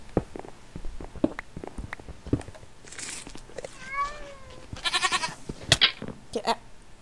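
A goat in the video game Minecraft gives a couple of wavering, nasal bleats near the middle, surrounded by scattered sharp clicks and thuds of block-breaking game activity.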